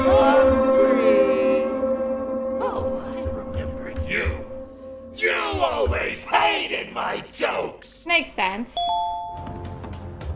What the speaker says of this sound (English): This screaming sounds like plankton.